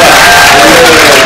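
Roadside crowd applauding and cheering at an international criterium cycling race, a loud, close, continuous wash of clapping and voices with a faint tonal whine running through it.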